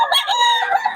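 A rooster crows close by in a loud, drawn-out, harmonic call with a few clucking breaks. The gamecocks are offered for sale, some of them banded.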